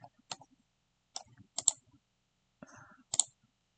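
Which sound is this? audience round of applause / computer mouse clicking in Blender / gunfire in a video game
computer mouse clicking in Blender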